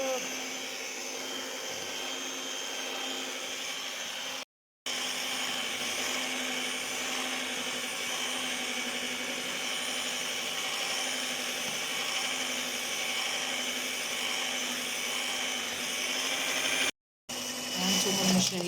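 An electric mixer whirs steadily as it beats cake batter until pale, a continuous moderate hum with two brief breaks and no talking.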